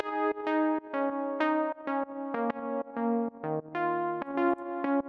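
Polytone synthesizer arpeggio from the Arpeggio Lab tool: a steady run of bright, harmonically rich plucked synth notes, about three per second, stepping through chord tones at close range with no voices.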